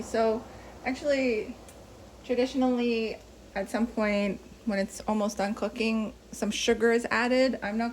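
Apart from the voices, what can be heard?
No everyday noises stand out.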